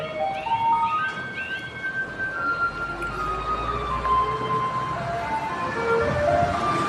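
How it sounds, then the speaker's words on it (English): A Tainan city government environmental protection truck passes along a street, playing a loud tonal melody with rising and falling notes that carries steadily over continuous traffic rumble. "Oh, here's the truck again."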